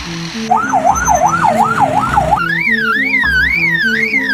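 A bird mimics an emergency siren: a loud wailing tone that rises and falls in a slow, steady cycle, then shifts to a quicker, higher warbling yelp, all over continuous background music.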